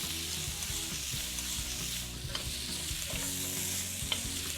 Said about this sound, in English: you want to hear that sizzle to start.